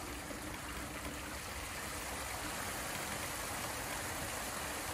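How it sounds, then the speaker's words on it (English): Runoff streams off a defective shade sail over a deck as it is pushed clear, a steady wash of rushing water with a low rumble beneath, no speech. "Get all the water off."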